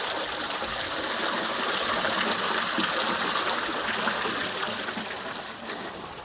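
Two garden fountains at Powerscourt splash and gush in a constant, full rush of falling water, close and steady throughout with no voices.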